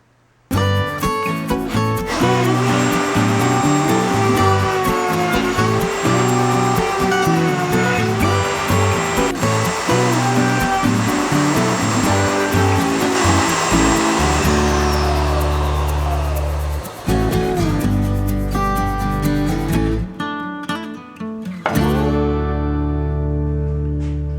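A router puts a 3/8 radius round-over on the leading edge of a wooden entry bench, a loud high-pitched whine that runs steadily under the cutting noise, then spins down and restarts briefly near the end.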